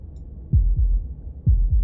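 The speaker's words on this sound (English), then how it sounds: "That was the sound of a heartbeat" Heartbeat in Slay the Princess, two deep double thumps, lub-dub, lub-dub, low and close, with quiet ambience between and no talking.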